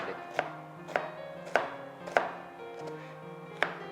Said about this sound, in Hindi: प्याज छीलने के बाद कट इनटू द 2 पीसेस और उसे चॉप करें।